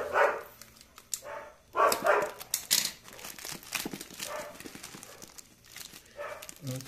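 Several dogs bark in short bursts indoors, mixed with crinkling and rustling noises, the barks fairly close and moderately loud against a busy background.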